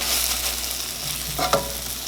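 French toast sizzles steadily in a hot pan, with a soft scrape and a brief clatter near the end as the slice is turned over; no one speaks.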